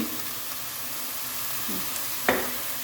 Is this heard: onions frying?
yes